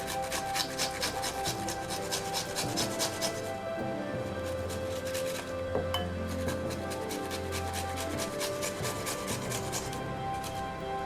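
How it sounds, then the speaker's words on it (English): Fresh ginger root is grated by hand, producing a steady, rapid scraping rasp with repeated strokes, fairly close and moderately quiet, continuing throughout with no speech over it. "and we're going to grate our ginger."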